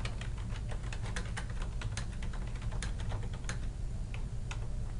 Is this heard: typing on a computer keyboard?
yes